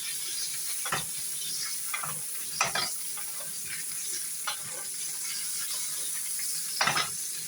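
A thick-cut T-bone steak sizzles steadily in a pan, the constant frying hiss joined every second or two by brief scraping and clinking as the meat is turned against the metal.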